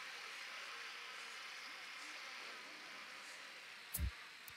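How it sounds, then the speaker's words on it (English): Drone flying in the video game Ghost Recon Wildlands, a faint steady buzzing hum throughout, with a short sharp knock near the end. "Drone is airborne."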